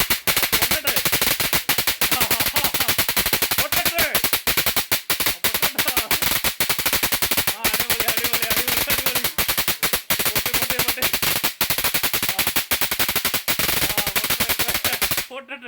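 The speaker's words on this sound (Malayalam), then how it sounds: "പടക്കം ഒന്ന് ഓണാക്കി, ഇലക്ട്രിക് പടക്കം ഓണാക്കി നമ്മൾ നമ്മുടെ വീട്ടിൽ പൊടി പൊടിക്കും" Electric firecracker toy set off at home for Christmas and New Year, crackling in a loud, continuous rapid burst like machine-gun fire for about fifteen seconds before stopping abruptly.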